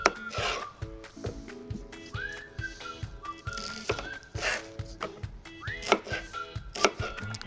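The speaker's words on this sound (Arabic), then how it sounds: "بصل نقصهم كوارتر بهالطريقة" A knife chops onions into quarters on a board, making a run of sharp, uneven close taps, with sustained whistle-like tones sounding faintly alongside.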